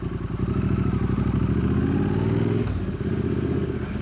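A 2024 Triumph Bonneville T120 parallel-twin motorcycle being ridden, its engine a loud, steady, throbbing drone close by that dips briefly and then carries on, with no voices.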